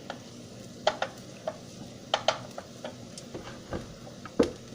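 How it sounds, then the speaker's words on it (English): Onions caramelizing in a pan while being stirred, with a soft background sizzle and scattered utensil scrapes and taps at irregular intervals, close by. "My onions are beginning to caramelize a little bit."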